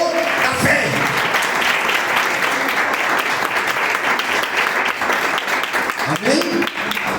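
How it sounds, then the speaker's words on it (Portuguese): A church congregation applauds, producing dense, steady clapping that fills the room throughout, with a voice briefly speaking over it near the start and end. "dá uma salva de palmas para o Senhor"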